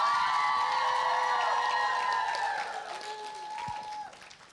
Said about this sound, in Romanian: aplauze pentru echipa galbenă.